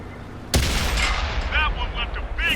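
A tank gun firing in a tank video game, one sudden loud boom followed by a rumbling tail and scattered clanks, with voices heard over the aftermath.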